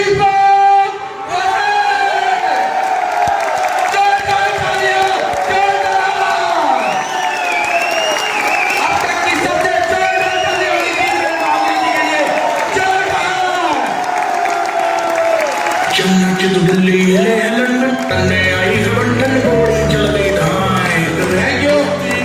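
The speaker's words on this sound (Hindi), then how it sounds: "एक बार जोरदार ताली बजाते हैं हमारे ग्रेट मेंटर मिस्टर दीपक।" A large audience at a Safe Shop business seminar in Gurgaon claps and cheers loudly for their mentor, a steady, dense wash of applause with occasional whoops that fills the room for the full stretch and tapers near the end.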